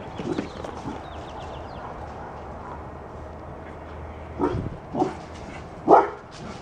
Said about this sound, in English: That's the neighbor dog.